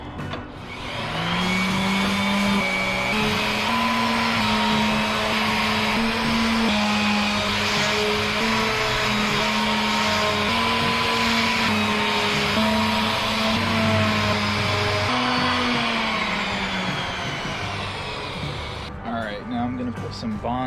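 A power sander works over kitchen cabinet doors during a cheap remodel, a loud, steady motorized whine running nearly unbroken for about fifteen seconds before winding down, with a brief rattle at the end.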